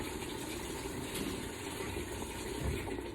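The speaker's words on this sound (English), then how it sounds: "10 to 12 ounces of water there, just adding it in" A steady stream of water pours continuously into a pan, a constant gushing rush with no pauses.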